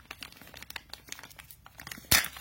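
A plastic bag crinkles and rustles during the unboxing of a RunCam Sparrow FPV drone camera, a close series of light crackles ending in a louder crunching burst.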